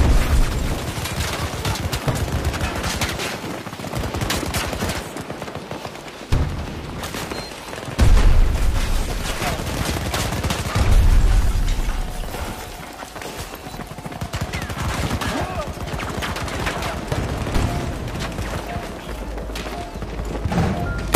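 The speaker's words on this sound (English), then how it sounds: "Grenade out!" Grenade explosions and heavy gunfire in the first-person shooter Battlefield 2042 during a Breakthrough match, with dense, continuous rifle and machine-gun fire and several loud booming blasts throughout.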